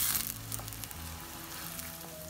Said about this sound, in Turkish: Üzerine bir iki diş ezdiğimiz sarımsakları ilave ediyoruz ve soğanlar iyice pembeleşene kadar kavuruyoruz